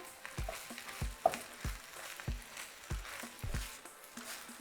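Poblano pepper strips fry in a pan with a steady sizzle, broken by repeated scraping stirs and soft utensil knocks every half second or so, close and moderately loud, with no talking.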